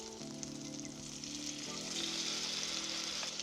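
Kimchi and Spam fry in an oiled pot with a steady, bright sizzle that holds throughout, over a faint low tonal hum in the background.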